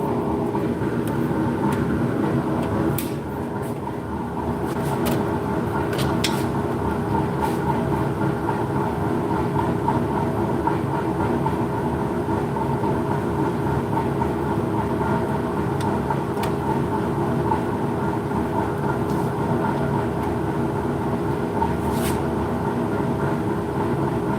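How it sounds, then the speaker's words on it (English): A wood lathe turning a drop spindle at 545 RPM gives off a steady, unbroken mechanical drone with a few faint clicks and knocks, loud and continuous throughout. "And now we're spinning at 545 RPMs."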